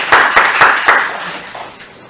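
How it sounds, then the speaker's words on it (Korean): A few people clap in welcome for a speaker at a Korean council debate forum on school credit systems, several sharp claps in an uneven rhythm that thin out and fade within two seconds. "큰 박수로 환영해 주십시오."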